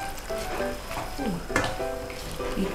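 Ayam woku ingredients with turmeric leaf, lime leaf and bay leaf frying over low heat in a pan, a steady soft sizzle with occasional scrapes of stirring and one sharper clink near the middle.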